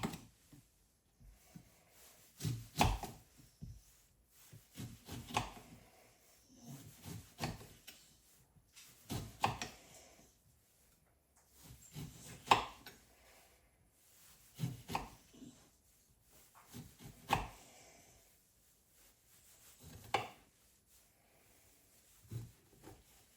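Ginger and other cold and flu juice ingredients are chopped on a board in separate bursts of quick knife strikes, with quiet pauses between them; the knocks sound close but fairly soft, and no one speaks.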